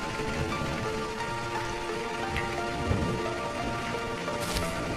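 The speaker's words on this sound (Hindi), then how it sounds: "मनोहर बारिश में ही दौड़ता हुआ दूसरे गांव की ओर बढ़ जाता है।" Rain falling in an animated cartoon scene, a steady dense patter across the whole clip with a low background hum and no voices.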